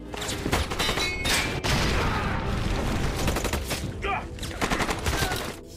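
Rapid bursts of gunfire in a film fight scene, including shots at a gas cylinder, crackling in dense volleys with brief pauses and a sharp high burst near the end, loud and close throughout.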